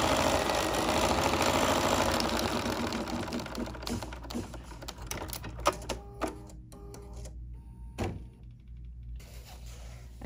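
An embroidery machine runs a basting stitch, starting with a dense whirring burst that thins into irregular tapping stitches and a few sharp clicks, close and moderately quiet.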